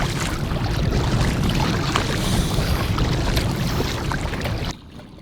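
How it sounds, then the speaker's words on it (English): Strong wind roars steadily over an open stretch of big lake during an early spring ice-out canoe trip in the Algonquin backcountry, buffeting the microphone with loud broadband rushing that cuts off abruptly near the end. "oh, that's a lot of wind"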